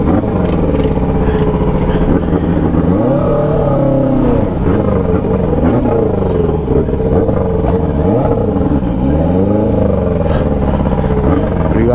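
A Yamaha XJ6 turbo motorcycle rides through central São Paulo, its engine droning and revving with shifting pitch against steady city traffic noise, loud and close throughout.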